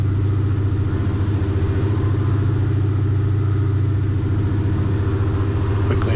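A DHC-2 Beaver piston engine held at 1750 rpm for a magneto check during run-up, a loud, steady, close rumbling drone with an even throbbing pulse throughout.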